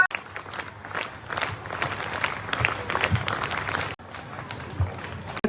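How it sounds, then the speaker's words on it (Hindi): Applause from an audience at a school annual day function after a children's performance, a busy stretch of clapping with a brief break near the end, fairly faint and mixed with crowd noise. "जोरदार तालियां इन बच्चों के लिए, बहुत ही अच्छा परफॉर्मेंस है।"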